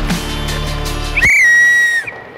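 A referee's whistle blown once at an ice hockey practice, a loud sustained shrill tone of about one second cutting through rink noise and fading out.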